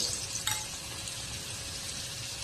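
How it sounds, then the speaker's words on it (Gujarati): Sweet potato vada fry in hot oil, with a steady, close hiss of sizzling bubbles and a brief stirring knock near the start, continuous and even with no voices. "હવે આપણે છેલ્લું પણ ફ્રાય કરી લઈએ."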